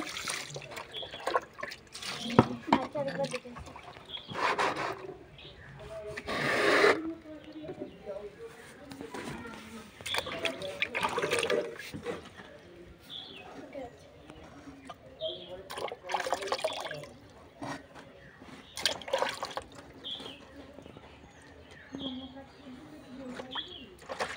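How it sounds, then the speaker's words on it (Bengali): Prawns being washed by hand outdoors, intermittent bursts of splashing and trickling water separated by quieter gaps, with birds cooing faintly in the background. "মাছ ধোয়া হচ্ছে।"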